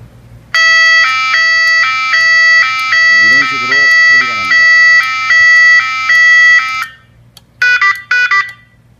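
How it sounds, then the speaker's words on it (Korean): A loud Dowontech DW350 electronic vehicle siren alternating between two tones for several seconds, then a few quick chirping bursts, with a voice briefly underneath. "사이렌을 임의로 올리고 싶을 때 소리를 한번 들어보겠습니다"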